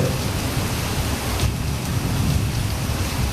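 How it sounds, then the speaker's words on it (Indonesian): Steady, dense rain falls at a campsite, a continuous loud hiss with no pauses and no voices. "Apa karena kebawa cuaca hujan Pak ya?"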